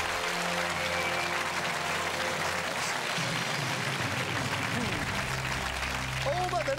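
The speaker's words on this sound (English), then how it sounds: "They're just clapping themselves out of sheer relief." A television quiz-show studio audience applauds steadily after a correct answer, dense clapping filling the room while a voice talks over it.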